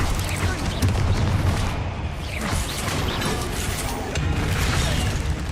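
A Bombarda blasting spell detonates in Hogwarts Legacy, a dense, sustained crashing blast with rumbling debris and repeated bursts lasting several seconds, loud and close, with no talking.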